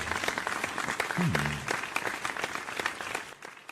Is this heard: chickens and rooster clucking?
no